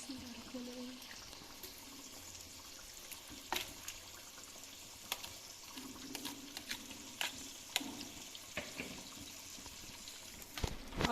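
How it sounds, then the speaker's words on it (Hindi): Chicken for shawarma goes into water in a kadhai, with faint watery sloshing and scattered clinks and knocks over a continuous low background hiss. "इसमें चिकन डालूंगी"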